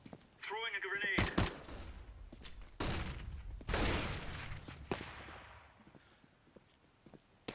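Desert Eagle pistol fire in Counter-Strike: Global Offensive sounds as a handful of sharp, loud single shots spaced a second or so apart. Faint in-game noises and a voice talking accompany the shots.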